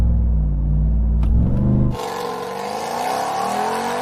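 A Hennessey Mammoth truck launches hard with traction control off. Its engine gives a loud, deep roar that rises in pitch, then breaks off abruptly and picks up again at a lower pitch, continuing to climb strongly.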